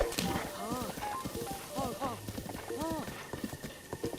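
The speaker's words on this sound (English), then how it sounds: "This horse is the most annoying thing to control in the world." A horse gallops in the Breath of the Wild video game, with quick, repeated clip-clop hoofbeats and a brief whinny, while a person talks over the sound.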